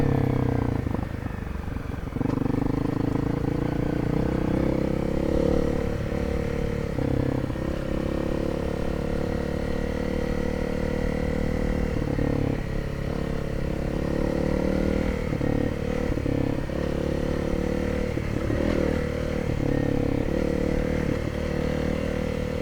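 Honda CRF250L motorcycle riding with an Öhlins rear shock fitted, a steady, loud engine drone holding throughout with slight shifts in pitch and no talk over it.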